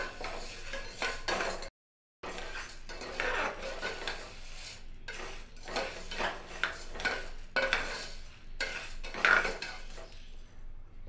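A spoon scrapes and clinks against a pan while green gram gravy masala is stirred and roasted, making steady close metallic scraping with a brief silent gap and no talk.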